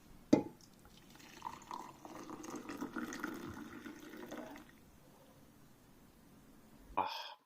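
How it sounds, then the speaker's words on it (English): Coffee pours steadily into a cup for a few seconds, a soft trickling wash that tapers off, with a sharp clink at the start and end. "I love the sound of coffee being poured"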